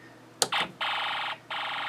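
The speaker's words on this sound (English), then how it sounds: "now it gives us the machine gun sound effect from the alarm IC" A Snap Circuits alarm IC played back from a recording IC gives a buzzy electronic machine-gun effect: a couple of short sputtering bursts, then two sustained rattling stretches separated by a brief gap, close and moderately loud.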